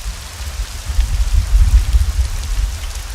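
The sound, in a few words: heavy rain falling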